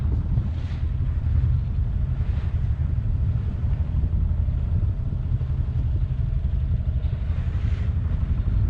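Sailboat motoring under engine at nearly 7 knots along the North Sea coast, a steady low droning engine hum mixed with rushing wind and water noise, continuous and unbroken throughout with no voices.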